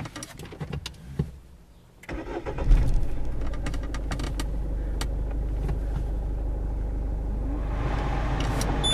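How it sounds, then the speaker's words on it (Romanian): A Peugeot car starts with a newly fitted key: a brief clicking and cranking, then the engine catches and settles into a steady idle, close and fairly loud with no speech. "drept dovadă mașina a pornit fără nicio problemă"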